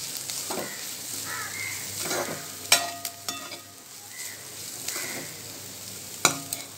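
A spoon stirs ground coconut into ponnanganni greens frying in a pan, a steady soft sizzle broken by several sharp scraping clicks of the utensil against the pan.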